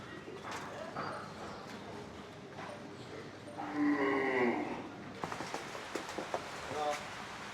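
A loud, drawn-out cattle moo rises midway through an outdoor scene at a cattle farm, with scattered clattering knocks and faint bird sounds around it.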